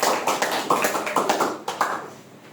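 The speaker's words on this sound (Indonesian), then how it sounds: "Kita tepuk tangan dulu" A classroom of students applauding together, a burst of quick, close hand claps with uneven rhythm that softens toward the end.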